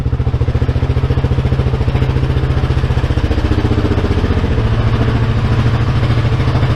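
A motorcycle engine idles fast and steady, set higher than its intended 1200 rpm, a loud, close, even low throb with a light mechanical clatter running throughout, no voices over it.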